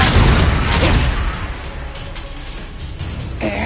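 A Confringo blasting spell goes off in Hogwarts Legacy with a loud, close booming explosion that rumbles and fades over a few seconds.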